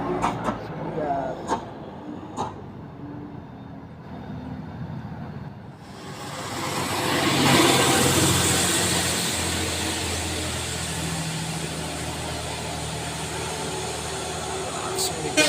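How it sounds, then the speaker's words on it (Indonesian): A heavily loaded Mitsubishi L300 pickup engine revs and strains uphill, rising into a loud sustained roar after a quieter rumbling start, with road noise around it. "Langsung digas saja, bermuatannya lumayan berat."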